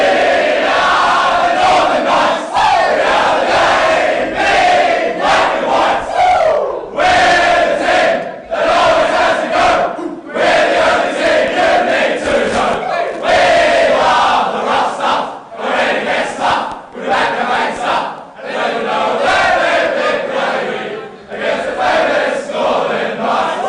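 Northern Knights players sing their team song together in the rooms after a TAC Cup match against Dandenong Stingrays, a loud, continuous group chant with shouting and cheering, dipping briefly between lines.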